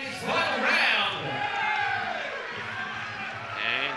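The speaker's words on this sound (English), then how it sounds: "And crowd starting to go berserk." Boxing arena crowd roaring and cheering during a final round, a broad swelling wash of voices with a commentator talking over it.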